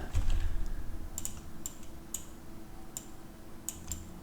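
Typing on a computer keyboard while working in Unreal Engine, a string of separate key clicks at an uneven pace, close and clear, with no talk.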